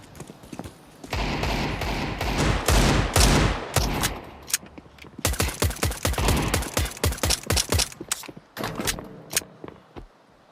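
Rapid automatic rifle fire in a professional Counter-Strike match, with dense bursts of sharp shots followed by quicker single rounds, heard at moderate volume with faint commentary.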